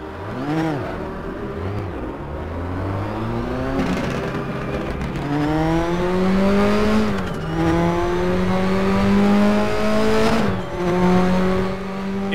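Formula Junior race car in RaceRoom at the Nürburgring, engine revving loud and close through rising gear pulls with shifts, the pitch climbing and dropping repeatedly.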